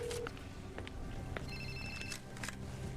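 A telephone rings faintly in a soap-opera scene, a few short electronic trills over quiet room tone.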